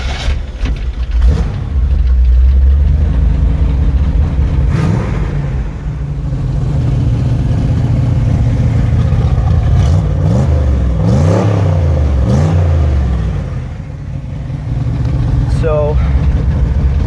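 A Chevy 3100 pickup with an automatic transmission and cab-corner exhausts through a rear muffler revs its engine repeatedly, loud and close, with sustained rumbling between rising surges and a brief quieter dip.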